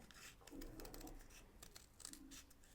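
Scissors snipping paper while cutting out a picture for a journal page, several short quiet cuts at close range with no talking.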